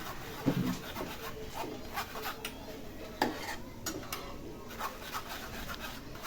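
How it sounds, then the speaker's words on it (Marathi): A spoon pressing tomato puree through a strainer makes faint, close scraping and rubbing strokes with occasional small metallic taps, soft and uneven, with no one talking. "आता चमच्याच्या साह्याने आपण ह्या गाळणीत ते गाळून घेऊया"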